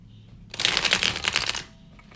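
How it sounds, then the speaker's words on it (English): A single quick riffle of Alchemical Tarot cards being shuffled, a crisp flurry of fluttering snaps lasting about a second, then quiet. "So I'm gonna do a little shuffling."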